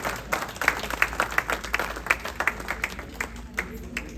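An audience at a book launch ceremony claps for the guests, giving a dense, continuous round of applause that stays lively throughout.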